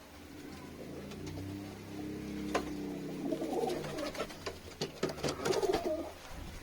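Pigeons coo in soft, low, repeated calls that grow busier and louder toward the end, with a faint background rumble.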